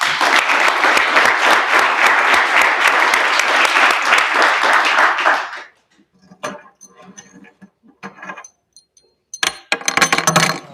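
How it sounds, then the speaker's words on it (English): Loud, dense round of applause at a treatment court graduation ceremony, many hands clapping close by for about five seconds before cutting off into quiet room noise, light clinks and a brief renewed burst of clapping. "I think it deserves its own round of applause."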